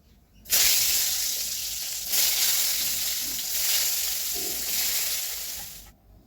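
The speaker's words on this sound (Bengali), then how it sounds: "আমি আলু করলা ভাজা বসিয়েছি" Potatoes and bitter gourd frying in a pan, a loud steady sizzle that starts abruptly, swells slightly in a few waves as the pieces are stirred, then cuts off.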